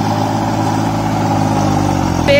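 A Kubota mini tractor engine runs steadily at a close, loud idle, a continuous mid-pitched drone that holds even throughout before a brief bump at the end.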